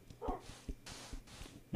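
Dogs barking in the Minecraft video game Vechs Super Hostile map, a few short yips and barks spaced across a quiet background, with one louder bark near the end.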